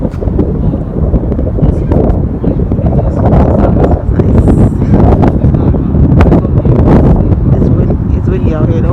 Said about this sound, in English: It's windy out here though.